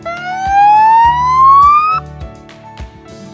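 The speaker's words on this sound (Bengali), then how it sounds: "এটা একটু পুলিশের সাউন্ড দেয়।" Police-style siren from the modified horn of a TVS Raider 125 motorcycle: one loud, close tone sweeps upward for about two seconds and stops abruptly, leaving the low rumble of the idling engine.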